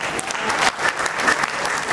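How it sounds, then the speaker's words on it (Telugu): Audience applause fills a hall at a first anniversary celebration for Dharmana Developers, steady dense clapping from a sizeable crowd throughout, loud and close with no break. "ఒక్కసారి వేరే వాళ్ళ కళలను నిజం చేస్తున్నందుకు మనకు మనం చప్పట్లు కొట్టుకుందాం"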